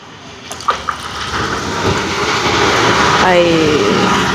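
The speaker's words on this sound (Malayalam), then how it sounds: "ഇനി ബാക്കി വെള്ളം ഒഴിക്കാം" Water poured into a glass already holding a layer of oil, a steady rising gush and splash that grows fuller as the glass fills, loud and close.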